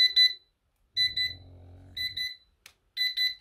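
XREXS digital kitchen timer alarm set to a louder volume, sounding in short bursts of rapid high beeps with pauses between, with a brief low mechanical hum in one gap.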